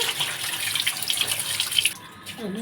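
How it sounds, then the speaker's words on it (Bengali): Prawns being washed under a running kitchen tap, a close, steady rush and splash of water for most of the moment, then the flow cuts off near the end. "মাছগুলো ভালো করে ধুয়ে নিচ্ছি"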